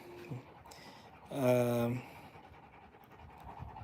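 Rottweiler or Cane Corso panting in a short burst of rapid, harmonic breaths lasting about half a second, close and fairly loud, over a quiet room background.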